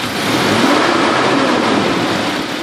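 A car engine on a test vehicle revving hard up close, a loud, sustained roaring rush that holds steady across the short stretch without talk.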